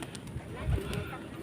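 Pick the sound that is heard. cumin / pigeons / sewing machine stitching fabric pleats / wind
pigeons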